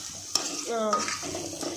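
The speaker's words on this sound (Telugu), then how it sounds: "అల్లం వెల్లుల్లి పేస్ట్ కొంచెం ఫ్రై అయిందంటే చికెన్ వేస్తాను." Ginger garlic paste frying in a pot for chicken curry, a soft sizzle with a few metal clinks and scraping stirs, fairly quiet, no talk.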